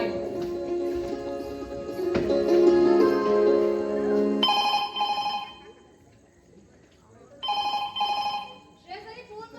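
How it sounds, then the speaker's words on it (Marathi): A telephone rings indoors in a home: two bursts of a bright electronic trill, close and fairly loud, following a stretch of music with voices. "श्रेयस, फोन करता कोणाचा आहे तो?"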